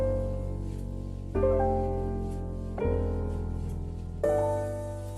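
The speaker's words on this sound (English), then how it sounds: "So here I have a chopped up jazz sample" Looped jazz sample with sustained chords and bass, cut into chunks that restart abruptly about every 1.4 seconds, playing alone at steady volume.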